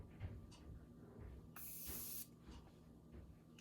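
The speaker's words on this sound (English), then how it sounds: "it's just a continuing spray" A single short hiss of a spray bottle misting, lasting under a second, against a quiet background.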